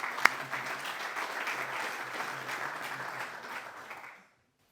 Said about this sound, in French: les applaudir pour le travail effectué sur cette programme